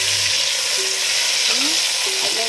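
Two chopped medium tomatoes fry with onions in a pan, a steady close hiss of sizzling oil filling the whole moment.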